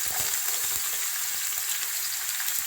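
Onions dropped into hot oil for a spaghetti sauce crackle and hiss in a dense, steady, close sizzle that holds evenly throughout, with no voices.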